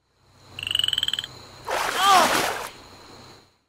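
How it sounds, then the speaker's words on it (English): A single frog croaks in a short, rapid pulsed burst, followed by a splash of water; faint and close, with a tone in the background. "Fat frog."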